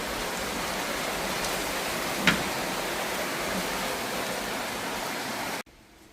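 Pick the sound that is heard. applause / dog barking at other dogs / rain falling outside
rain falling outside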